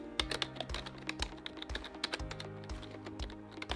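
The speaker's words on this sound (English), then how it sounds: "Start typing the keyword." Steady, quick keystrokes clatter on a computer keyboard close by, an even patter of clicks over soft background music.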